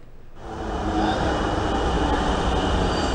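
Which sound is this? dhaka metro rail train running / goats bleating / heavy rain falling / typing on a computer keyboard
dhaka metro rail train running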